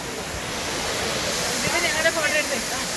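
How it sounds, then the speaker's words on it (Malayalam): Steady broadband rush of Thusharagiri waterfall on a forested river, a continuous roar that stays even throughout, with faint scattered voices in the background. "പ്രകൃതി സുന്ദരമായ ഒരു വെള്ളച്ചാട്ടം തന്നെയാണ് ഈ തുഷാരഗിരി വെള്ളച്ചാട്ടം."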